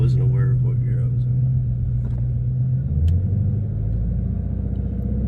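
Ford Mustang GT350 engine rumbling while driving, a loud close low drone that drops in pitch partway through as the revs fall, with people talking over it.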